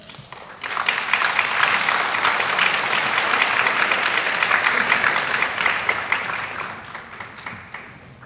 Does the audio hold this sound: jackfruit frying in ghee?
no